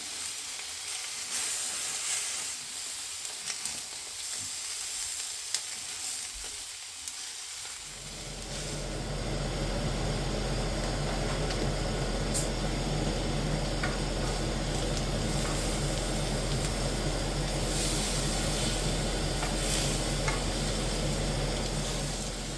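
Sausages sizzle in a hot pan with a dense, steady crackle that swells from a quieter start to a loud, continuous fry lasting well over ten seconds, close and with no voices.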